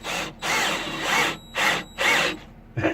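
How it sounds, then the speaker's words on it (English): Close, loud bursts from a battery drill driving screws into sanding arbors: four strong whirring runs separated by brief pauses, then a short final spin. "I'm going to use the battery drill."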